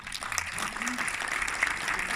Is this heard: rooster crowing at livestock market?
no